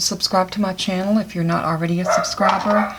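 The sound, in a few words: dog barking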